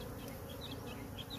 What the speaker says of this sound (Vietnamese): Ong mà nó cứ bu bu dưới đất thế này này.